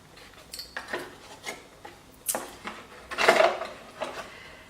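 A ceramic cup with its lid and a small spoon being handled, giving a few light clinks, taps and rubbing sounds at close range, brief and irregular with quiet gaps between.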